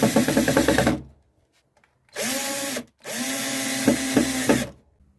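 A power drill drives screws to attach hinges on a wooden storage-box dog house, three loud close bursts of whining motor, with short pauses between them.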